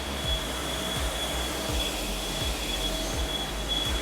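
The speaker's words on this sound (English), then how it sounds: "here's one of our wastegate caps as it pops out of the machine" A CNC machine at Turbosmart's headquarters machining wastegate caps, a steady mechanical whir with a thin high whine and regular low knocks about once a second, continuous and fairly close.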